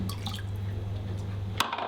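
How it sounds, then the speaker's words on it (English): Juice from half a lemon trickles into pork stock for a pork pie: a brief, soft liquid drip and splash over a low steady hum, close and quiet. "I add the juice of half a lemon"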